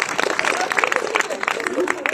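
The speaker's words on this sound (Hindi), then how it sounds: "सबसे पहले आयोजनकर्ताओं के नाम पर जोरदार तालियां बजाइए" A crowd at a Hindi-language public gathering applauds the organisers, with dense, lively clapping mixed with crowd murmur throughout.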